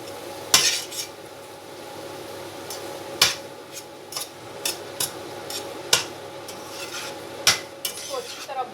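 Poppy seeds are stirred and dry-roasted in a pan, the spoon scraping and clinking sharply against the metal at irregular intervals over a soft, continuous sizzle.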